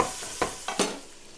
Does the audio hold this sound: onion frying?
yes